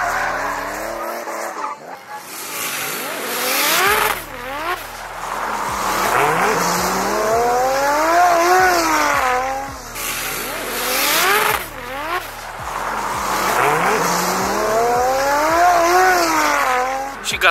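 Cars drifting at a drift event, with loud, close tire squeal and revving engines rising and falling in repeated sweeps as each car slides through, alone without talk.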